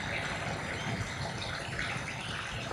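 Water flowing under a bridge and past a line of rocks, a steady, close rushing wash of broadband sound that carries on without pause.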